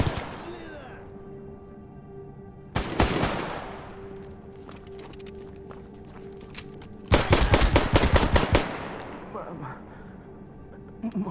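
Automatic gunfire in the video game Stalker GAMMA, two loud close bursts of rapid shots separated by quieter stretches with clinking mechanical sounds, while a player speaks.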